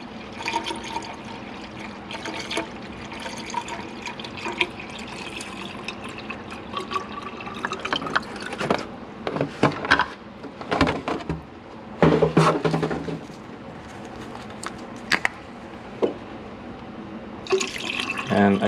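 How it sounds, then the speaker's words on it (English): Water is poured into the cooling system of a Ford Crown Victoria with a 7.3L Godzilla engine swap, an irregular, splashing, gurgling pour with pauses and a few louder surges, heard close. "I'm putting water in because I want to make sure nothing is leaking"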